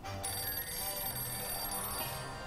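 A telephone rings in the Sam & Max video game Culture Shock, a bright electronic ring sounding continuously and clearly for a couple of seconds with no talk over it.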